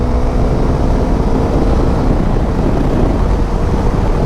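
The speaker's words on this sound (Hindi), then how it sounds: "फुल थ्रोटल के साथ चलाने का थोड़ा सा एक्सपीरियंस लेते हैं।" A Bajaj Dominar 400 motorcycle with a 349cc engine runs at full throttle. It gives a loud, constant roar heavily mixed with wind rush, steady and unbroken throughout.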